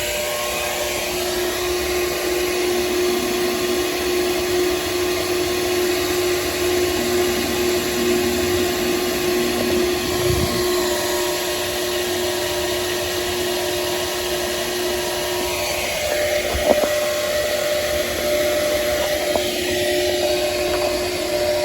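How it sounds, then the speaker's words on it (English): A vacuum tube sucks up baldfaced hornets at their nest, a steady loud whining drone that holds for the whole stretch, with faint knocks and bumps beneath it. "then you simply pick up your vacuum tube and collect them there at the nest"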